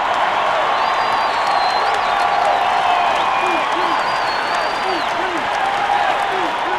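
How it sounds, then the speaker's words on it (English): Simulated baseball stadium crowd in MLB 09: The Show, Rays at Marlins, a steady loud roar of cheering and applause throughout with whistles and calls rising above it, under a full-count at-bat with bases loaded. "Oh, listen to this crowd now"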